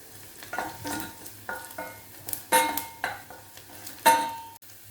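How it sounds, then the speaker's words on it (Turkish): A spoon stirs tomato paste into fried onions in a pot, with repeated scraping strokes and clinks against the metal, under a soft sizzle, near and fairly quiet. "Soğanlarım kavruldu. Şöyle salça ekliyorum. Domates salçası."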